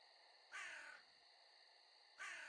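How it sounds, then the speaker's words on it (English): Two identical bird-like chirp effects sound in the survival video game 7 Days to Die when clicking in the menu, each a short bright cawing call over a steady electronic hum, spaced well apart. "The little bird noise whenever you click anything is hilarious."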